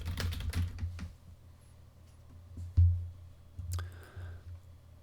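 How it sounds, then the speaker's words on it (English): Dell Quiet Key keyboard being typed on about 16 inches from a USB microphone, soft scattered key taps in short bursts with one sharper thud, fairly quiet in a calm room. "And now this is a Dell Quiet Key about 16 inches away. Keyboard, tapping on a keyboard."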